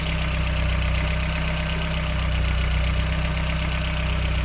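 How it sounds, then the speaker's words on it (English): A VW Corrado with a 1.8T engine idles steadily up close, a loud, even drone with a low hum and a faint rapid ticking running unbroken, with no voices. "I don't know if anyone will be able to hear anything over this engine"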